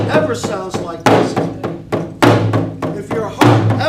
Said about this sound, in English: And that's what the drum represents. It represents the heartbeat of life.